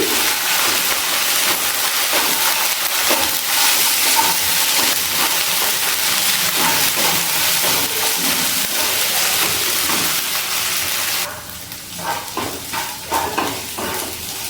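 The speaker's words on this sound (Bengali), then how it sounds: "আদা বাটা, লঙ্কা বাটা আর রসুন বাটা দিয়ে ভালো করে একটুখানি কষিয়ে নিচ্ছি।" Ginger, green chili and garlic paste fry with onion in a pan for a restaurant-style egg masala, giving a loud continuous sizzle with stirring scrapes that softens and turns patchy toward the end.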